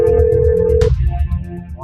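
A telephone rings in a domestic scene in a Gujarati film, a short steady electronic ring that stops abruptly partway through, heard alone without voices.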